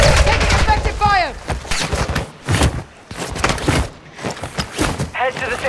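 Rapid gunfire from a video game firefight cracks in dense bursts and volleys throughout, mixed with loud, excited talk from players.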